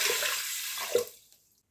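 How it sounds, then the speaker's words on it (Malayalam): Water is poured into a pressure cooker holding washed green gram, a short soft splashing pour that fades out within about a second. "ഇനി ഇതിലേക്ക് 3 കപ്പ് വെള്ളം ഒഴിച്ചു കൊടുക്കുക."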